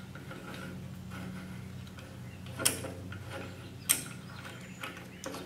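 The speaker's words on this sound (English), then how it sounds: "you gotta hold the plate and turn the wrench" Small mechanical clicks and ratcheting as a wrench turns to seat the shell plate on a Lee Breech Lock Pro reloading press, two sharp metallic ticks standing out over a low steady hum, close and fairly quiet.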